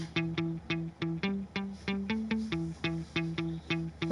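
A synthesized melody in 7/4 made in Dreams on PS4 plays alone: evenly plucked, bright tones grouped 3-3-2 in a looping rhythmic pattern, with each note decaying quickly.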